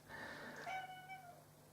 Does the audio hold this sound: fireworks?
no